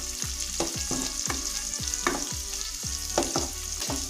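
Onions browning in a frying pan for a banana-flower curry, a steady sizzle under regular scraping strokes of a spatula about twice a second, with a low hum beneath and no talking.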